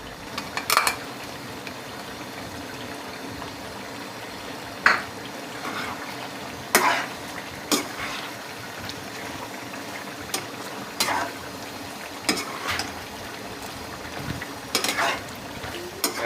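Chicken Afghani karahi with green chilies and ginger stirred in a pan: repeated sharp spatula scrapes and clacks land every second or so over a steady background sizzle, close and fairly loud.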